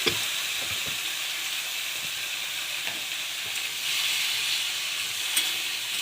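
Potatoes and pumpkin greens sizzle and hiss steadily in hot oil with a dried chilli. The frying noise is close and continuous, with a few light clatters from the pan.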